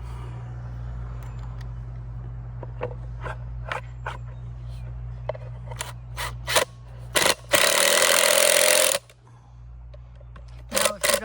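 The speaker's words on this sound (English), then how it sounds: "we're just pre-drilling the other two holes" A power drill pre-drills holes to mount a retractable garden hose reel: a few short whirring bursts and one longer, louder run of about two seconds, set among clicks and handling noise over a steady low hum.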